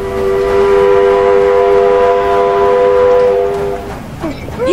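A freight express train in the Roblox Wild West game sounding a long, loud, steady horn chord that holds for several seconds and then cuts off, leaving rumbling noise.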